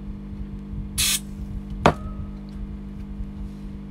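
A single short hiss of aerosol spray from a can, close and brief, while gluing colored pencil ends together in a workshop, followed a moment later by a sharp click over a low steady hum.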